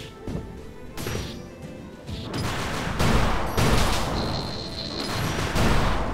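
A water cannon attack in the brawler video game GetAmped, a run of loud, close crashing blasts and thwacking hits that swell and surge in repeated bursts.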